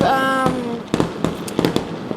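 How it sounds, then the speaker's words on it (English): Fourth of July fireworks bursting outdoors in San Francisco, a series of sharp irregular pops and crackles spaced through the clip, with a sustained tone at the start. "while I still have little fireworks, going on"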